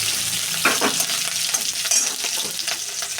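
Whole dried red chilies frying in hot oil for a five-vegetable dish give a continuous close crackling sizzle, with bursts of popping and no voices.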